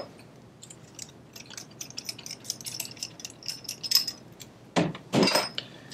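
Metal press-fitting tail pieces being handled, giving light metallic clinks and small clicks scattered across the stretch, then a couple of louder, fuller knocks and rattles near the end.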